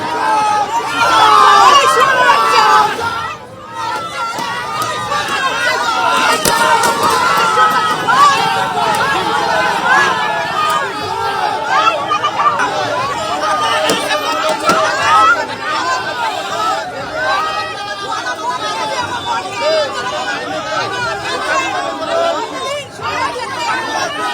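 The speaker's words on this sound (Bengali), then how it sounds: "থানা থেকে আদালতে নিয়ে যাওয়ার সময় উঠল চোর স্লোগান, উড়ে এলো ডিম।" A crowd jeers and chants 'thief' slogans at an arrested former councillor being led from a police station to court, a dense, loud babble of many voices with raised shouts throughout.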